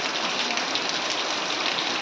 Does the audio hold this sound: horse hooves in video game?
no